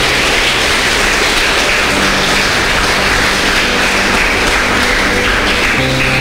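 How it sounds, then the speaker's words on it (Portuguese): Congregation applauding during a Portuguese-language church service: a dense, loud, steady wash of clapping from many hands that carries on unbroken for about six seconds, with no talking. "Pode aplaudir, irmão."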